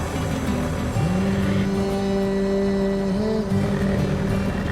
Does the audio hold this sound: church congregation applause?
no